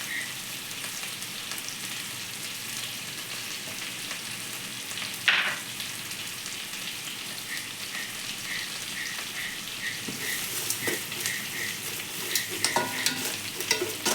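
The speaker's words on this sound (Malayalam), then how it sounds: "കപ്സ മസാല ഇടുകയാണ് പിന്നെ കുരുമുളക് ഇടണം" Spices such as kabsa masala and pepper being stirred into rice frying in a pan, with a steady crackling sizzle throughout and a sharper scrape of the spoon partway through, close and without speech.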